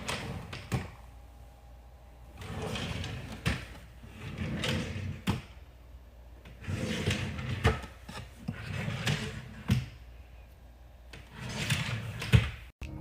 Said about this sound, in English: Today I opened my stress ball drawer